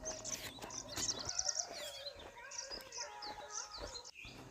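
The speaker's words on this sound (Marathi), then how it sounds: "पक्ष्यांचा मधुर आवाज चालण्याचा उत्साह वाढवत होता." Birds sing on a winding ghat hill path on a summer morning in the Konkan countryside, giving bright, repeated chirps and short trills at close to middle distance. Soft, faint thumps sit underneath the calls.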